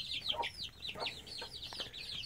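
Several young chickens cluck and peep in quick, overlapping bursts, fairly close and steady, with faint lower clucks mixed in.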